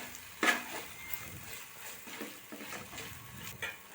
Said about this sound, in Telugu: కొత్తిమీర పుదీనా వేసుకొని బాగా కలుపుకోవాలి ఒక ఐదు నిమిషాలు ఫ్రై చేసుకోవాలి